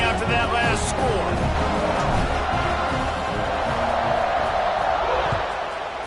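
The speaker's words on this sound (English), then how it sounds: "this crowd is buzzing after that last score" A big football stadium crowd at a college game keeps up a loud, continuous roar and buzz after a score, with scattered shouts rising within it and an announcer talking over it.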